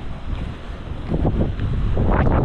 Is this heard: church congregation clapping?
no